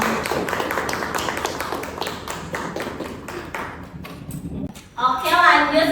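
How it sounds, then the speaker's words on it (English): A classroom of students applauds a classmate after his self-introduction in an English lesson, a brisk burst of many hands clapping close by. The clapping thins out over a few seconds, then a voice speaks. "Give applause for Indra."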